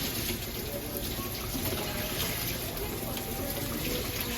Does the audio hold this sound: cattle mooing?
no